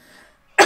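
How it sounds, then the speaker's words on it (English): A single sharp cough breaks loud and close at the very end of a short stretch of near silence. "with this cough"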